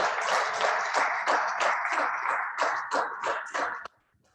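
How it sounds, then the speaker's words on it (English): Applause from a conference audience at a training workshop, a steady dense clapping that continues for about four seconds and then stops abruptly. "Once again, a round of applause for the DGCO"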